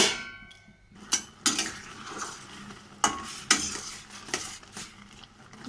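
Raw mangoes being stirred and mashed in a pot with a little water while they boil, a spoon scraping and clanking against the metal in irregular strokes over a soft bubbling simmer, up close with no talking.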